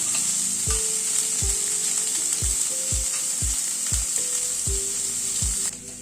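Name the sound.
onions frying in a pan on medium flame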